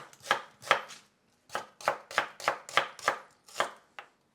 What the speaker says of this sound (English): we're just gonna grab your knife and we're gonna start slicing it following the pattern